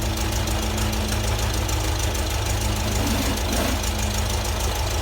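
A tuned Type 4 engine, headed for a 914, idles steadily up close, a continuous loud mechanical rumble with a faint knocking rhythm running through all five seconds and no voices.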